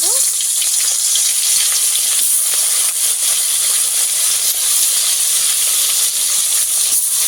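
River khoira fish fry in oil in a kadai over a stove, giving a loud, continuous, close sizzling hiss that holds steady throughout, with a faint rising squeak at the very start.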